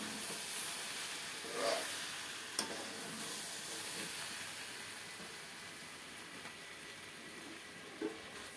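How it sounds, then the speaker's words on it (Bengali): Fried drumstick pods and potatoes tumble into tomato masala in a pan, giving a soft steady sizzle with a few faint stirring clinks, quiet and close. "ভেজে রাখা সজনা আলুগুলো ঢেলে দিলাম।"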